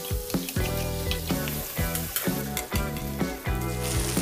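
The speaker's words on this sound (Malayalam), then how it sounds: "സവാള റെഡ് ചില്ലീസ് തക്കാളി പുളി ഇതെല്ലാം നമുക്ക് 2 മിനിറ്റ്സ് നന്നായിട്ട് സോട്ട് ചെയ്യണം." Onions, red chillies, tomato and tamarind sautéing in a pan, heard as a continuous sizzle under loud, rhythmic music.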